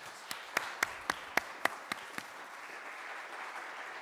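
About eight sharp hand claps in a steady, quick rhythm, fairly faint, at a church annual meeting, fading out to quiet room noise.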